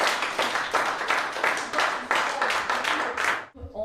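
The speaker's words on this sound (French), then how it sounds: "Et on s'applaudit" Group applause at a chess and ski trophy ceremony comes in rhythmic, pulsing bursts of clapping, fairly close, stopping abruptly near the end.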